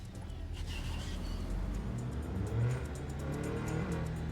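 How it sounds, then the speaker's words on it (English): A Toyota-style car engine in the video game NTE revs steadily with a low, droning hum throughout, louder swells near the middle, with light background sounds and no clear talk. "Makes a Toyota noise."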